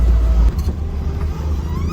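Suzuki Samurai off-road vehicle driving through wet, slimy mud, its engine rumbling loudly and steadily up close, with a deep low drone that dips and surges as it pushes on.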